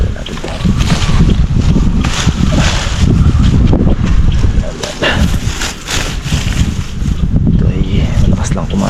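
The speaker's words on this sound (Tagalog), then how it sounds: "mahangin na naman." Strong wind buffets loudly and continuously on a calamansi farm, rumbling and gusting across the microphone, with a voice partly buried beneath it.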